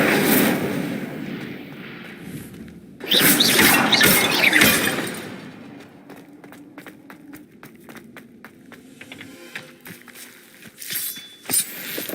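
An Incendio fire spell in Hogwarts Legacy erupts in a loud roaring whoosh of flame lasting a couple of seconds, followed by a scatter of sharp crackles and clicks fading in quieter game ambience.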